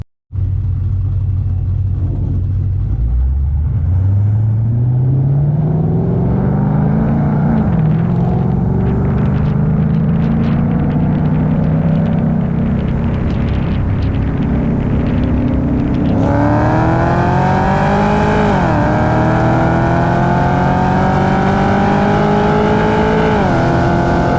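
Modded Cadillac CTS-V at a drag strip, engine roaring loud and close from launch as it races a supercharged 5.0, revs climbing steadily through the gears with a brief dip at a shift, then pulling hard again to the end.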